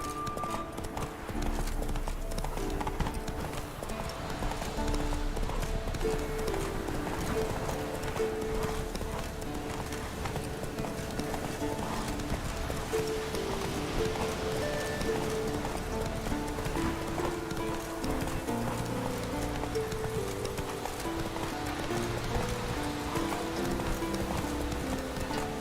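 Horse hooves galloping in the video game Witcher 3, a steady, rapid clip-clop rhythm running unbroken and fairly close, layered over a continuous game soundtrack.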